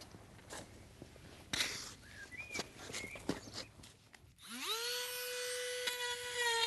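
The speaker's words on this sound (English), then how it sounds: "any other irregularities in the hoof I will use the Dremel also to clean out" A Dremel rotary tool spins up at a farrier's shoeing job to clean irregularities out of a horse's front hoof, a high steady whine rising in the last couple of seconds after quiet scuffs and shuffling.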